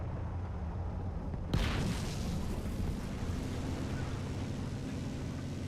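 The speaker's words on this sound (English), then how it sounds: "And then he gets hit and destroyed" A tank is hit and destroyed in War Thunder: one sudden, sharp explosive blast over steady battlefield rumble, then a long roaring, crackling decay that fades under continuous low engine and combat noise.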